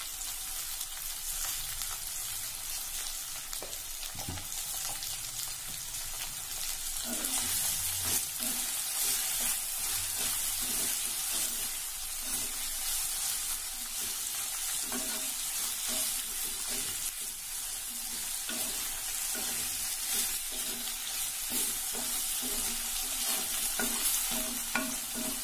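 Bitter gourd sautéing in a pan for Nagercoil-style pagarkai aviyal, a steady close sizzle with frequent stirring scrapes and clatters throughout, no voices.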